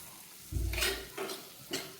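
Dried mango pickle stirred in boiling vinegar in a pan, with three short bursts of scraping and bubbling sizzle, the first and longest carrying a low rumble, then two briefer stirs, all close and fairly quiet.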